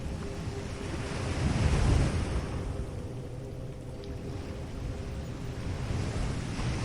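Ocean waves wash steadily below stone steps, a constant broad roar with a gentle swell in the middle and a breezy hiss throughout, no voices.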